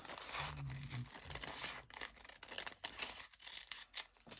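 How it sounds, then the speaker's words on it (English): Scissors trimming the edge of a paper bag while making a journal, giving faint close crisp snipping and crinkling paper sounds in quick irregular bursts with no talk. "I'm just going to use my scissors now rather than get that out again. And I'm going to trim this off."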